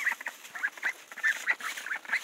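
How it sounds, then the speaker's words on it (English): Runner ducks call by a pond in a steady run of short, nasal quacks and honks, about a dozen close together, loud and near, with no talking. "those guys are runner ducks"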